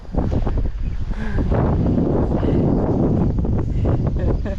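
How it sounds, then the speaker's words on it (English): Strong wind gusting steadily across an outdoor goat pen, a loud, continuous roar buffeting the microphone for the whole stretch, with no other sounds standing out. "here comes the wind"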